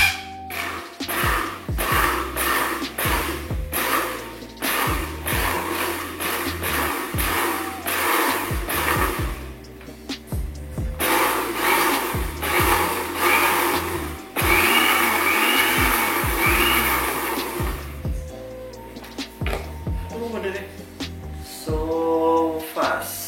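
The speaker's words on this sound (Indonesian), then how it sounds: "Ya biasa ya, kita langsung blender aja." An electric blender whirs loudly while blending aloe vera gel, running in pulsed bursts that stop and restart several times, with a steady high motor whine throughout.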